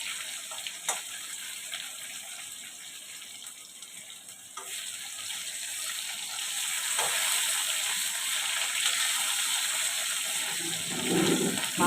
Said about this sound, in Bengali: লাল লাল করে ফ্রাই করে নেব আলুটা।